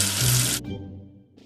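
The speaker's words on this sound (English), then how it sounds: "Wash away the soap with water." Running tap water rinses soap off a toy letter N, a loud broadband splash that stops abruptly after about half a second, leaving a quiet, fading tail.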